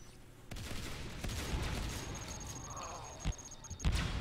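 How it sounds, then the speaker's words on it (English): Mines exploding in a multiplayer video game match, a burst of booms and rapid gunfire-like cracks with low thuds, moderately loud over a continuous background rumble. "Oh, the mines just went off."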